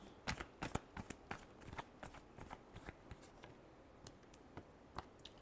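Tarot cards shuffled by hand in a final round, soft quick riffles and taps up close, thick at first and then thinning to scattered clicks, with no voice.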